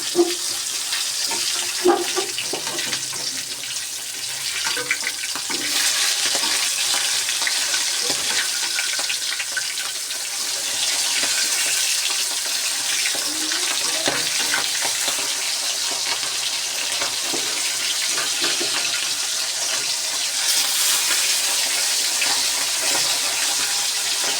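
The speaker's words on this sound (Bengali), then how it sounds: "মাছগুলি তো ভাজা হয়ে গেল, এখন এগুলোকে উল্টাই দিই।" Steady, loud frying sizzle of hilsa fish runs throughout, a dense hiss of hot oil with occasional faint clinks, and no talking.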